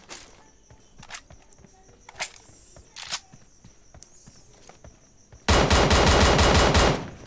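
Scattered sharp shots and clicks give way to a loud, sustained burst of rapid QBU rifle fire lasting over a second, video game gunfire.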